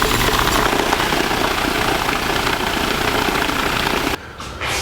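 A bolt-polishing tumbler loaded with walnut shell media runs with a loud, steady, close whirring drone, cutting out abruptly near the end.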